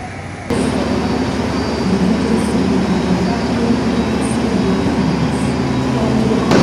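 The Manahan passenger train stands by at an Indonesian railway station, giving off a steady loud mechanical hum and rumble that starts abruptly and holds even, with faint higher tones now and then.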